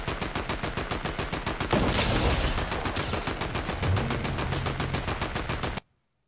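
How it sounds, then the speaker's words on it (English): Rapid, rhythmic bursts of automatic gunfire crackle continuously in a Fortnite match, loud and dense with a brief heavier blast in the middle before cutting off abruptly. "They're just shooting"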